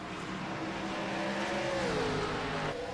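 A race car engine in iRacing at Rockingham drones steadily with a pitch that sweeps and shifts as it revs, continuous and fairly loud, no talking.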